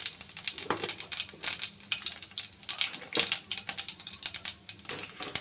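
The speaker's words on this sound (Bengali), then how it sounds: "তেলটা গরম হয়ে গেছে এবার আমি তেলে তেজপাতা জিরে ফোড়ন দেব" Bay leaves and cumin seeds hit hot refined white oil in a home kitchen pan, giving a sharp, crackling sizzle with irregular spitting bursts, close and moderately quiet, with no voices.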